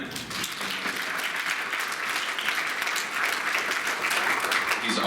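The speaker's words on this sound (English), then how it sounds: "So I guess round of applause for Ken" Audience applause at a lung cancer research update event, steady dense clapping from a room of people that runs throughout at moderate level, with no talk over it.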